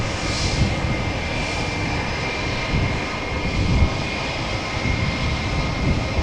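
A Lufthansa jet airliner at Amsterdam Schiphol Airport gives off a steady, moderately loud engine roar that rises slightly midway and carries on alone without speech.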